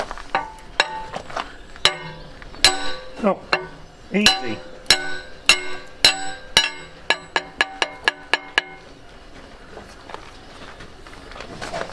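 Repeated hammer blows ring out on metal with sharp, clanging strikes, irregular at first, then a faster run of hits, as a big hammer drives out an engine flywheel key; a voice speaks briefly.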